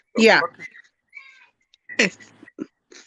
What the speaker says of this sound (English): It's the neighborhood kitties running around.